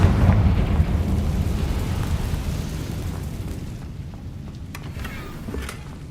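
A Confringo fire spell bursts in the game Hogwarts Legacy, a loud rumbling explosion that fades slowly into a low roar with a few small pops near the end.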